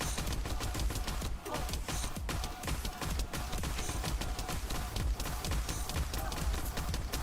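Continuous weapon fire from The First Descendant, dense rapid shots layered over busy game effects and music, steady and loud throughout with no break.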